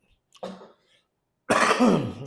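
A person coughs, first a short muffled cough, then after a pause a longer, harsher, louder cough with a rough throaty tail.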